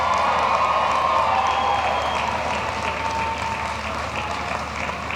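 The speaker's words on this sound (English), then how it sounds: "Turn and face your loved ones, and you give them a round of applause and thanks." Applause at a university commencement ceremony for the School of Education and School of Environmental Sustainability: a large crowd claps continuously in a big reverberant space, with scattered cheers and whoops, easing slightly toward the end.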